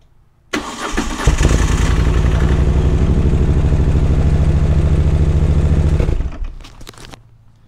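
A Moto Guzzi 1200 Sport motorcycle fuel pump primes briefly, then the starter cranks and the engine catches, running loud and close with a steady throb for several seconds before shutting off.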